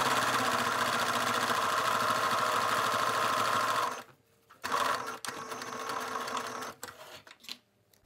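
A sewing machine stitches a seam on fabric for a child's glasses case, running in one loud steady burst for about four seconds, then restarting in several shorter runs separated by pauses.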